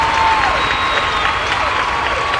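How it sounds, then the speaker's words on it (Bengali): A stage audience applauds the third-place winner at a televised dance competition, a dense, loud wash of clapping that holds steady throughout, with a faint tone ringing over it. "জোরে হাততালি শ্রীপর্ণার জন্য।"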